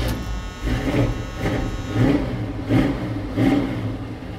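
A high-compression small-block Chevy 350 cranks on a jump box, the starter churning in a slow, labored rhythm of four or five heavy pulses with a buzzing whir, close and fairly loud.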